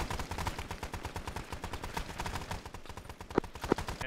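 A quad 50 machine gun fires in a video game, a rapid, sustained stream of sharp repeating shots that continues without pause, with a couple of louder impacts near the end.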